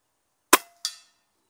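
A Diana Outlaw Gen2 air rifle fires once, a sharp close crack followed about a third of a second later by a fainter, bright metallic report, then silence.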